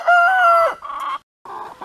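Chickens clucking and calling loudly in a backyard flock as they are fed, a long drawn-out squawk followed by two shorter clucking bursts close by, with no talk.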